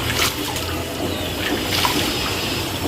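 Rinse water draining from washed wheat being prepared for homemade kurdai, a steady close trickling and splashing that runs on without a break.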